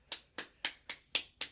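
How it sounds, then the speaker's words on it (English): Six crisp hand claps in an even, quick rhythm, close and fairly quiet, with short silences between them. "Yeah, that deserves some claps."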